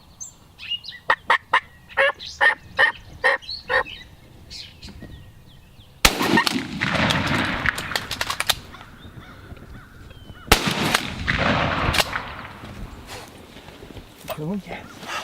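Turkeys gobble in rhythmic bursts during a spring turkey hunt in New Jersey, then two loud shotgun blasts ring out a few seconds apart, each with an echoing tail.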